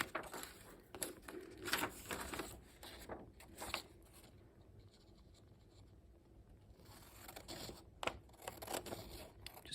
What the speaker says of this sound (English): So we are going to cut this